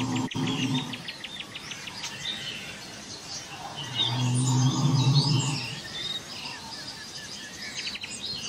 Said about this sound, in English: The beautiful birds whose songs weave the fabric of the forest.